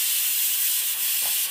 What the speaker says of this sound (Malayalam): അത് ഇതിലിട്ടിട്ട് നമുക്ക് വറുത്തെടുക്കാം.